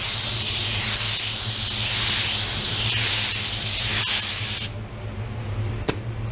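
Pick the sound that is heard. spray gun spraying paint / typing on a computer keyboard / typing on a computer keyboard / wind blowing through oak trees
spray gun spraying paint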